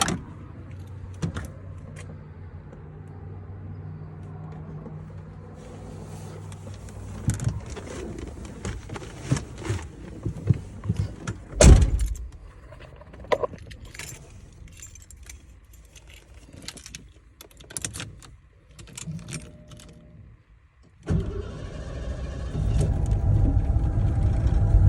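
Keys jangle and several clicks and clunks come from a 1989 Ford Bronco after it has sat for about a week, then the engine cold starts near the end and settles into a loud, steady idle without throttle.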